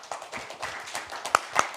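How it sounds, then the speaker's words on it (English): A few scattered hand claps from a small audience thanking the panelists after a debate, sparse and uneven, with a couple of sharper nearby claps toward the end. "a round of applause for our panelists"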